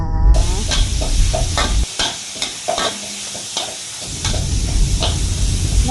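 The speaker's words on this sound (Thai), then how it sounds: "เราก็จะใส่เนื้อสับลงไปนะจ๊ะ แล้วแม่ก็ผัดผัดผัดผัดผัด" Minced beef sizzles in a hot wok while a spatula scrapes and stirs it in repeated strokes, close and loud, with no one speaking.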